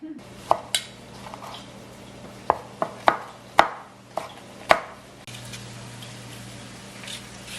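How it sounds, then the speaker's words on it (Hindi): Potatoes being chopped on a cutting board, with sharp, separate knife strikes in an uneven rhythm that fade to a low hum near the end, with no voices. "आलू छील के काट लेते हैं"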